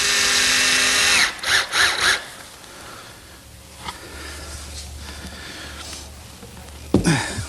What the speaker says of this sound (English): These little plywood blocks will provide better holding power for the screws that will ultimately attach the base to the top.